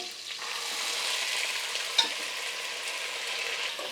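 Hyacinth beans (avarekalu) frying in hot oil in a pan as they are stirred, a steady close sizzle with faint scraping and one small clink, no talking.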